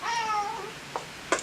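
A pet cat gives one drawn-out, close meow that tails off, followed by two small soft clicks in a quiet room.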